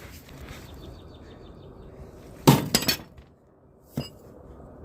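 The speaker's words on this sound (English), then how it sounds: "if it won't go in, hammer it in farther, and as you hammer it" Several sharp metallic strikes ring out close by, a quick cluster of hammer blows on a ball joint separator tool on a Jeep Comanche, followed by one more hit after a pause.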